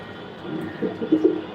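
Racing pigeons at a loft give soft, close cooing, a few low throaty coos building in loudness toward the end over a quiet background hum.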